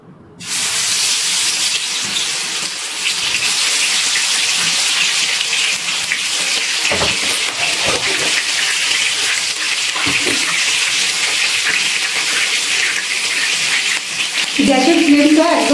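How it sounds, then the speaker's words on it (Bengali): Chicken leg pieces fry in hot white refined oil on a low gas flame, a loud steady sizzle and hiss lasting throughout, with a few soft clinks near the end. "তেল গরম হয়ে গেছে, এবার চিকেন লেগ পিসগুলো এক এক করে ভেজে নিচ্ছি।"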